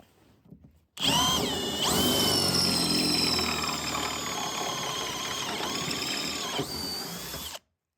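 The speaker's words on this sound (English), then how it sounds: "And this is a metal drill, because here you see it has a metal frame" A power drill with a metal bit spins up abruptly and grinds steadily through a trailer's metal frame for several seconds, its whining pitch dipping under load before cutting off.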